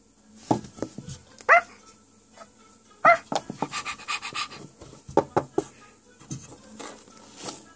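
A puppy gives a series of short, high yips and barks in scattered bursts, mixed with panting and small whimpers, close by in a quiet room.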